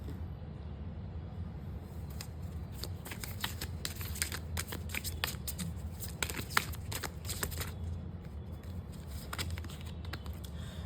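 Oracle cards are shuffled and drawn, giving soft, quick papery riffles and flicks in bursts over a faint, quiet background, close to the listener.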